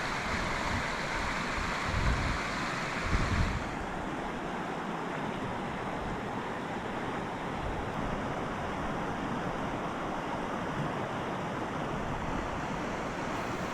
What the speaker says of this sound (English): watch the river, and listen to the water flowing past